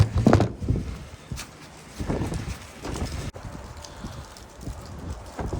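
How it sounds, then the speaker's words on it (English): Gusts of wind buffet the microphone in rumbling, uneven bursts, with rustling and clattering noises mixed in. "it's so windy it blew my camera over"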